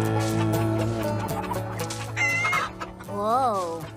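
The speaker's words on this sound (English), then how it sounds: "Well, these chickens come from nature." Chickens clucking loudly and close, a dense flurry of overlapping clucks and squawks with one drawn-out rising call near the end.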